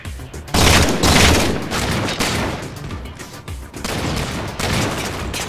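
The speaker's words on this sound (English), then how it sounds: "Shotgun, baby!" Heavy gunfire from a shotgun in the Halo 4 video game: loud repeated blasts and booming shots fill the whole stretch, dense and close, with brief dips between bursts.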